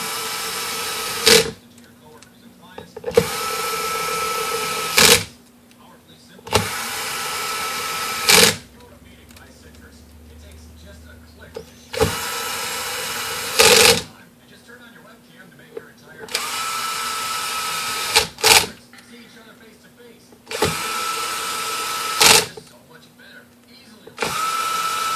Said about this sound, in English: So first I put all my lid screws back on.